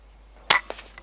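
An air rifle fires once at a rabbit about 30 yards away across a freshly cut silage field, aimed over a farm gate; a single sharp crack is followed by a few faint knocks and thuds.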